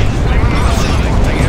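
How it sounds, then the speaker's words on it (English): A continuous rumbling boom from a cannon firing in the Warhammer 40,000 strategy game Dawn of War 2, loud and dense with a rattling mechanical texture, under a commentator's voice. "The cannon still doing its thing."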